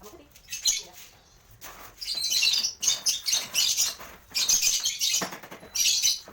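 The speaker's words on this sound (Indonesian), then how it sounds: "Ini ya, adalah lovebird cobat warna biru gelap sama putih." A dark blue and white lovebird chirps in bursts of sharp, high tweets, fairly close and clear, with short pauses and some fluttering between the calls.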